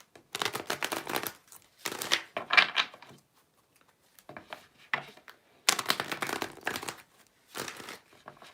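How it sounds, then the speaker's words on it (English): Tarot cards are shuffled by hand in bursts of crisp riffling and slapping, with short quiet pauses between each round of shuffling and no talk. "I'm just going to start shuffling some cards before I get into it."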